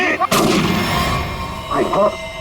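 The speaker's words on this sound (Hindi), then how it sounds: "किसने गोली चलाई?" A single loud, sharp gunshot cracks near the start, followed by a lingering rumble and faint voices.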